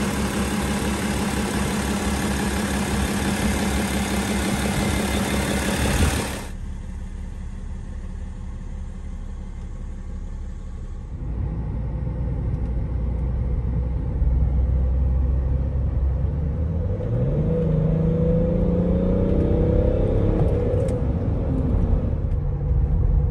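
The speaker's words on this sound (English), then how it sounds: "So this 2010 BMW X5 Diesel has been retuned for a DPF delete, and drives amazing." A 2010 BMW X5 diesel retuned with its DPF deleted runs steadily with a loud, close droning rumble, the tone shifting partway through and a rising whine appearing toward the end.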